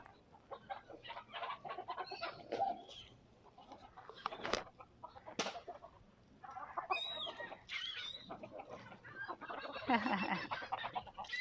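Several feral chickens in Key West's Mallory Square cluck and squawk close by in irregular bursts, their calls overlapping and continuing steadily throughout without any talking.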